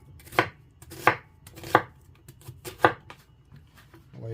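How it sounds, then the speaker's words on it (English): An onion being cut into slices with a knife on a board: five or six crisp, evenly spaced chops about two-thirds of a second apart, close and clear with no talking. "And then nothing fancy with cutting up this onion."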